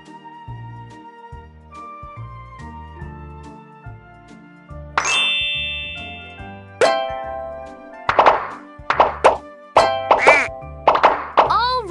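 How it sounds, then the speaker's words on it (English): Bubbles popping in a Paw Patrol children's mobile game: bright chiming dings and clangs sound one after another, sparse at first and then rapid, over light cheerful background music. "Now tap all the bubbles to pop them."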